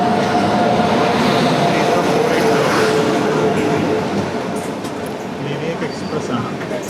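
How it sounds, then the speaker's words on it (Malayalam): Vadodara–Valsad Intercity express train running alongside on a line through Gujarat, a loud continuous rumble with rail noise that eases slightly toward the end. "ഈ റൈറ്റ് കിടക്കുന്നത് വഡോദര വൽസാഡ് ഇൻ്റർസിറ്റിയാണ്."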